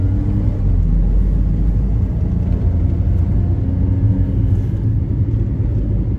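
A Mitsubishi Minicab kei van with a naturally aspirated engine drives along with the air conditioning running, giving a steady low engine rumble and road drone heard from inside the cabin, with no talk.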